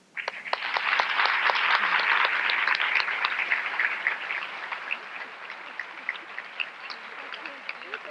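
An audience at a women's leadership conference claps to welcome a guest speaker. The applause is dense and bursts up right away, then slowly thins to scattered claps.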